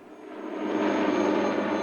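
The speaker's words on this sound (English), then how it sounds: "The Pakistani Army provided helicopters to fly up the Baltoro Glacier to Concordia" A Pakistani Army helicopter flies up the Baltoro Glacier toward Concordia, a steady close engine and rotor roar that swells and holds without speech.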